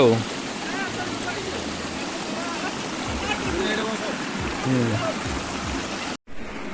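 Water pours steadily at Kurkut waterfall in Deogarh, a loud, continuous rushing wash close by, with people talking over it before a brief cut near the end.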